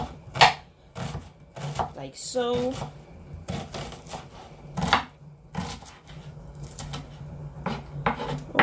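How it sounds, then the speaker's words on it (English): A kitchen knife dices an onion into tiny pieces on a chopping board: a string of sharp, close, irregular taps and thuds, with a short spoken remark among them. "So I'm just gonna chop this. I'm gonna dice it basically into tiny pieces."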